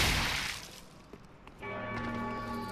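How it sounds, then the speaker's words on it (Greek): A bell rings in the video game Dark Souls 3, with sustained, steady harmonic tones that set in partway through and hold over a noisy game background. "Αυτή η καμπάνα είναι παρόμοια με τον Dark Souls 1."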